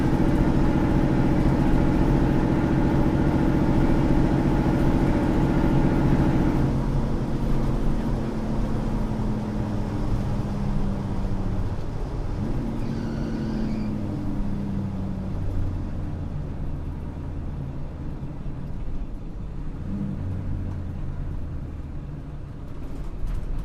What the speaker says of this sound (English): Transmission, as you can see, shifts really good and smooth.